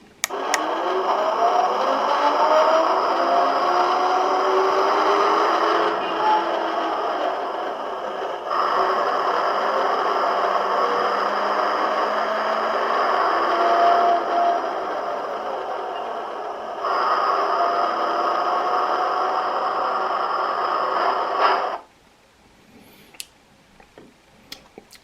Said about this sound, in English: Here's the engine noise.